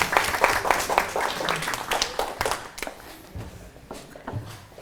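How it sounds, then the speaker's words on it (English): An audience claps for a group presenter at a health research methodology faculty development session at Nims University, scattered, uneven applause that thins out toward the end, moderately quiet and somewhat distant. "big round of applause for Kushwant."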